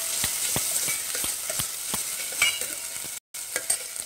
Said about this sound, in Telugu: ఇప్పుడు మనకు ఉల్లిగడ్డ, పచ్చిమిర్చి ఫ్రై అవుతూ ఉంటే